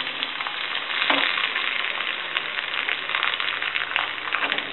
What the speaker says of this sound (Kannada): ಮೆಣಸಿನಕಾಯಿ ಒಗ್ಗರಣೆಗೆ, ಅದ್ರ ಜೊತೆಗೆ ಒಣಗಿದ ಕೊಬ್ಬರಿ ತುರ್ಕೊಂಡಿರೋದು ಒಗ್ಗರಣೆಗೆ ಹಾಕ್ಕೊಳ್ತಾ ಇದ್ದೀನಿ.